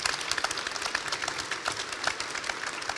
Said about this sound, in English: give our panelists a great round of applause for being here this morning.